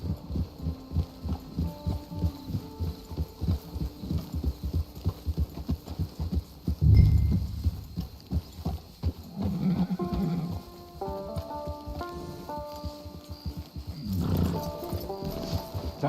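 Horse hooves clip-clop steadily in Red Dead Redemption 2 Online, a close, rhythmic trot of regular beats that loosens toward the end, with brief tonal in-game sounds and faint background noise.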